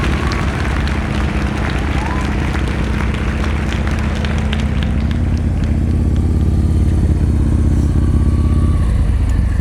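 Motorcycle engine running steadily at low speed during slow-speed riding skills practice on a training course, a continuous low rumble throughout with some clatter and a voice talking over it.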